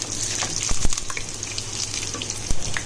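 Whole spices and onions roast in a pot for chicken biryani, giving a steady close sizzle with a few brief stirring knocks and scrapes, and no voices.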